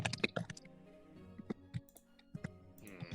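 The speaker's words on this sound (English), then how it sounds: "I hear typing." Light, irregular clicks of fingers tapping a computer keyboard come in short scattered bursts, faint and in the background, with a low steady hum beneath.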